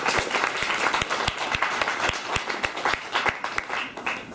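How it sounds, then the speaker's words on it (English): Steady applause from an audience clapping for Steve Baker at an economic talk, dense and continuous with sharper individual claps punctuating it at close range. "A clap for Steve"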